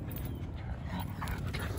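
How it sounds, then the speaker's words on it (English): A small dog plays with a bigger dog outdoors; faint, brief scuffling and soft dog noises sit low in steady background hiss, with no talking. "Little dog's playing with big dog."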